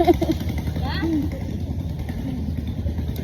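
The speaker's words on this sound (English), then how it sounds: "I hear the boat everywhere." A boat engine drones steadily in the background on the Tonle Sap River in the rainy season while people talk nearby over the low rumble.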